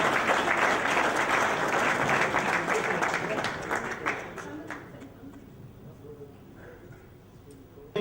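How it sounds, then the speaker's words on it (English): An audience at a restaurant opening in Sheffield gives a burst of loud clapping that thins out and fades over about five seconds, leaving faint scattered claps and murmuring voices. "Let's give him a round of applause."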